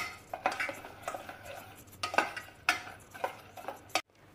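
Jaggery melting with water in a pan while a utensil stirs it, giving a run of clinks and scrapes in a loose rhythm that ends in a sudden stop, with no talk over it.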